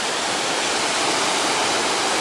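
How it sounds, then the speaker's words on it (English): A North Wales waterfall near Llyn Ogwen roars as a constant, dense rush of falling water, loud and close with no pauses. "Another view of the waterfall."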